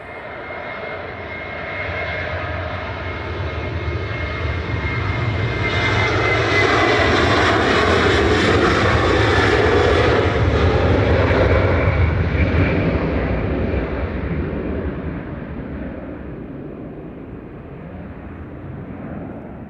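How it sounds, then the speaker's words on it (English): A Sun Express airliner jet departs Manchester Airport for Antalya, its engine roar building from a distance, peaking loud and broad, then fading slowly as it climbs away. "Sun Express departing now, heading back to Antalya."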